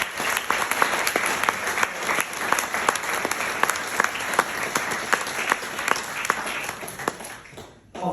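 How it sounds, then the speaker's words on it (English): Audience at a university graduation ceremony clapping steadily, a dense close round of applause that holds for several seconds before cutting off near the end. "Let's give our program office and CMC a big round of applause."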